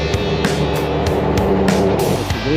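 A 1975 Ford truck drives along a road, its engine rumbling steadily up close beneath rhythmic bumps and rattles as it rolls over the surface.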